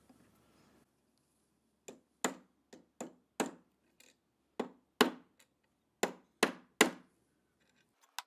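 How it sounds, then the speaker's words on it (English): A metal bar is hammered flat for jewelry, with sharp, ringing hammer blows landing close by in irregular bursts of one to three strikes, about fifteen in all, with quiet gaps between. "I can start hammering to get it flatter, and this will also harden it pretty quick."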